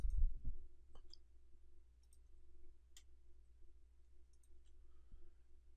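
Computer mouse clicking while signature fields are added in Adobe Sign, a handful of sparse, faint single clicks over a low steady hum.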